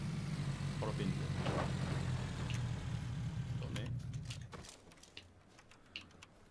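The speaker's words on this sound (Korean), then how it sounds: "어 차 소리" A car engine in the video game PlayerUnknown's Battlegrounds rumbles steadily for several seconds, then fades away, leaving scattered sharp clicks and taps.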